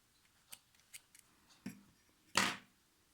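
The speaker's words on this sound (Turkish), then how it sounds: "fazla ipimizi keselim" Scissors snipping excess yarn while crocheting a hair clip: several soft, quick snips spaced irregularly, closing with one louder, crisp cut, close and alone in a quiet room.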